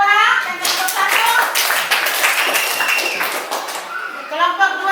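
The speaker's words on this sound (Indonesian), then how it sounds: "Oke, tepuk tangan buat kelompok 2 dan kelompok 1." Children in a classroom clap their hands together, a dense, fast patter of many small hands that rises quickly, holds loud and steady for several seconds, then fades out.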